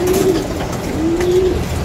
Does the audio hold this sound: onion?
no